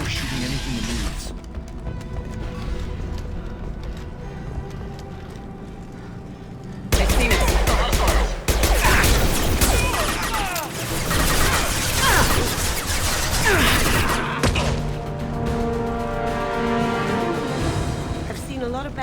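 Gunfire in the video game Mass Effect 2, loud bursts of rapid shots and crashing impacts that start abruptly and continue densely, mixed with game sounds.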